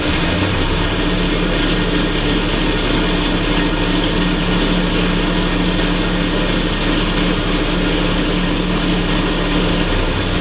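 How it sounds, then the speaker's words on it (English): A wood lathe turning a Christmas light bottle stopper runs at high speed with no cutting, a loud, steady, dense motor whine and hum that holds unchanged throughout. "just put it on when it's with the lathe off and crank the speed up"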